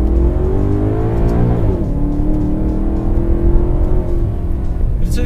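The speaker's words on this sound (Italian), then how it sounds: "In modalità sport i cambi marcia avvengono in appena 100 millisecondi." A Maserati GranTurismo Sport with a naturally aspirated V8 accelerates hard, its loud close engine note climbing in pitch, dropping sharply at a quick gear shift, then climbing again steadily, with no voices.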